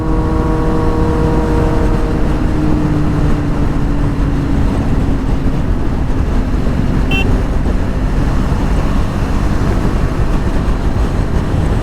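A KTM Duke superbike engine roars loudly and close by in one continuous revving drone, its pitch easing down in the first couple of seconds before holding steady.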